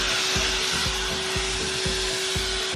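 A Ryobi ONE+ cordless 6-gallon wet/dry vacuum runs continuously at close range, a loud steady whooshing drone with a constant motor whine and faint regular thumps underneath.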